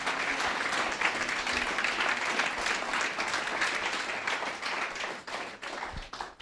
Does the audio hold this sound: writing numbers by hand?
no